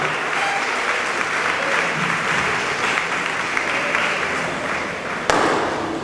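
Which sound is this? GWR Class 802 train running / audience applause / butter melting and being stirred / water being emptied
audience applause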